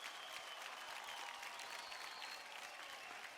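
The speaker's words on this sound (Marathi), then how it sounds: "जोरदार टाळ्या होऊन जाऊ द्या या चौघांसाठी" A TV dance competition studio audience applauds four dancers with steady, dense clapping that holds evenly throughout, heard faintly and without talk.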